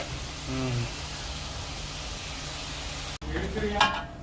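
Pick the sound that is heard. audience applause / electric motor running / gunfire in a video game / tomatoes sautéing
tomatoes sautéing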